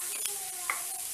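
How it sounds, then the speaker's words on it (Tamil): Mushrooms sauté for a gravy in a hot pan, giving a steady, close sizzle with a couple of faint stirring taps over it. "காளான் கொஞ்சம் வதங்கட்டும்."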